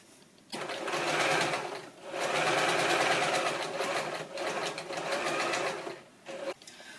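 A sewing machine stitches the side seam of a child's fabric backpack, running in three sustained bursts with short pauses between, close and loud with no talking.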